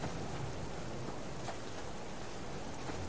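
Rain pours steadily during a stormy spell in a survival video game, with a low rumble of thunder underneath, a constant quiet wash of drops and no speech.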